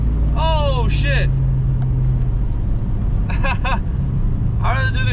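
A custom Chevrolet TrailBlazer SS pulling away hard, a loud continuous low engine roar from inside the cabin, with excited shouting voices breaking in over it.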